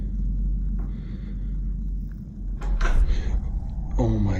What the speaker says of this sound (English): I've been hearing fucking knocking sounds